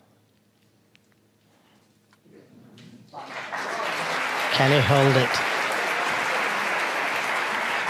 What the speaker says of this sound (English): The crowd on the other side of the partition, oblivious to what's going on here. Clapping, cheering, disturbing.